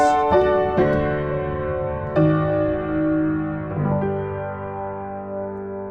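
An orchestral motif in a bright major key, with several struck chords that ring out and decay, building to a sustained resolving harmony.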